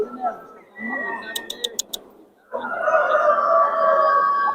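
A champion Australorp hen at a Turkish poultry show gives a few short calls, then a sustained, fairly loud vocalization, close by in an exhibition hall, with a voice nearby.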